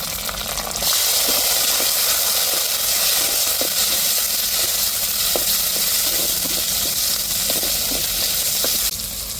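Tomatoes and chilies fry in hot oil for a sardine fish curry, giving a loud, steady sizzle that runs unbroken from start to finish, with faint scattered stirring clicks underneath.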